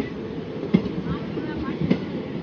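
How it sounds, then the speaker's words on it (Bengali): A train departs Badami station, rolling past nearby with rhythmic wheel clacks over the rail joints, a low rumble under the intermittent knocks. "আমাদের ট্রেন চলে যাচ্ছে।"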